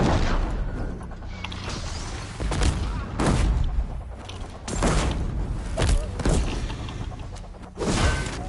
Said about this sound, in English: Use the cannon against the enemies.